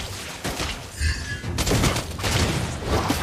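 Rapid gunfire bursts in the mobile game Mobile Legends: Bang Bang, a dense volley of close, loud shots running through most of the short moment with hardly a pause.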